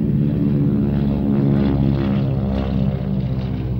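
An airplane engine drones loudly and continuously, a steady propeller-like hum with layered low tones that barely changes over several seconds, heard from close by with no voices.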